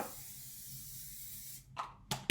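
A steady hiss of olive oil aerosol spray onto cling film lasting over a second, followed by a few short spritzes close by.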